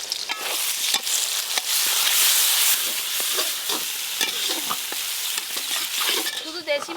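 Ginger-garlic paste ground with cumin, coriander, fennel and dried chillies fries in a pan with softened onion and tomato for a country chicken curry, giving a steady loud sizzle with scraping stir strokes throughout.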